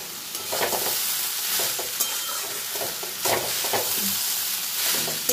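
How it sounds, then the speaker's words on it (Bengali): Roasted, ground cumin and coriander are stirred through a frying pan, giving a steady close sizzle broken by scraping spatula strokes at an irregular pace, with no voices. "এবার জিরে ধনেটা দিয়ে কিছুক্ষণ নাড়াচাড়া করার পর"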